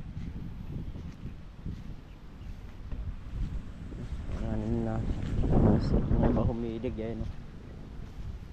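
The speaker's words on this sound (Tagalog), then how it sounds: "Hanggang ngayon binabayo pa rin ng hangin." Wind buffets an exposed farm field planted with calamansi, rolling low gusts against the microphone that swell toward the middle while someone talks over them.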